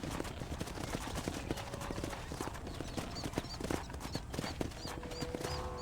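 Horse hooves clip-clop in a steady rhythmic gait in the video game Red Dead Redemption on PS4, close and continuous, with faint bird chirps and a quiet ambient background.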